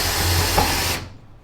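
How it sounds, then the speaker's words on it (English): A Dewalt DCD771 cordless drill bores a hole at second speed, a loud close whirring hiss with a steady motor hum that cuts off abruptly near the end, leaving a brief fading tail. "We're just going to drill a hole in the 2nd speed now."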